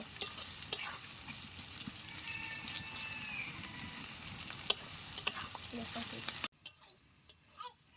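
Four large chopped onions fry in white oil in a kadai for beresta, a steady close sizzle with scattered clicks of stirring that cuts off abruptly near the end, leaving a few faint taps.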